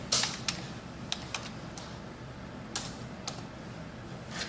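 Someone types a short folder name into a command line on a computer keyboard, a handful of light, irregular clicks spaced apart over a quiet, hissy room background.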